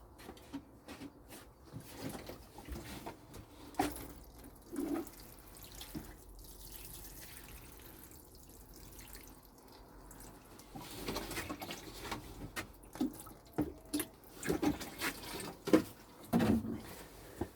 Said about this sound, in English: I'll now give them a nice drink of water.